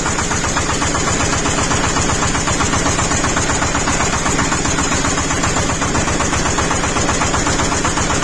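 An engine runs just after its injection pump has been installed, idling loud and close with a fast, even, pulsing knock that stays constant throughout.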